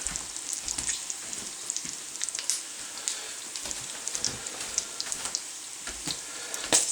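Bacon sizzling and popping in a hot pan, a steady dense crackle with frequent sharp little pops, close and alone with no voices.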